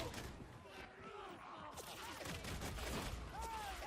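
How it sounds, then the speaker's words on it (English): Pistol gunfire in the Warhammer 40k: Darktide video game, a rapid run of sharp shots mixed with combat clatter and impacts, loud and continuous throughout a busy fight. "The pistols are a fantastic way of dealing with rages."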